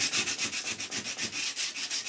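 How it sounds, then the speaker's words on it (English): Sandpaper wrapped around a lollipop stick rubs rhythmically on a curved-front wooden box, a quick steady back-and-forth rasp of about ten close strokes with no talking. "a lollipop stick wrapped in sandpaper to help with the sanding"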